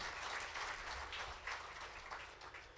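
Audience clapping after a public speech in Latur, a steady wash of applause from a crowd, moderately distant and fairly faint, continuing evenly throughout without voices.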